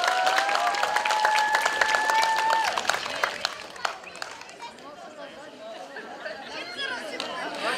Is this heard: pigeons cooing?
no